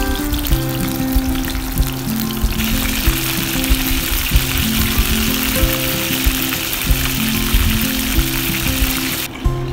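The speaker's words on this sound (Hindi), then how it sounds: "मीडियम फ्लेम पे इसको फ्राई करेंगे।" Kebabs fry in an oiled pan over a medium flame, giving a constant dense sizzle with popping spatters, loud and close throughout and then cut off abruptly at the end.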